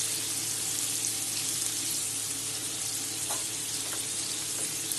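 Potatoes with salt and turmeric frying in a pan give a steady, close hiss and sizzle that runs unbroken and fairly loud, with no voices over it.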